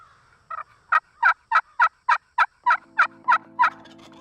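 A wild turkey longbeard gobbles at the edge of a field at sunset, giving about a dozen sharp, rhythmic gobbling bursts in quick succession, loud and fairly close, with a faint low hum under the later calls.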